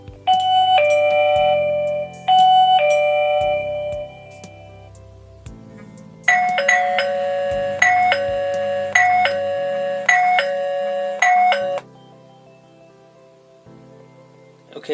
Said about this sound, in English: And now I'm going to face this away from me and press the doorbell.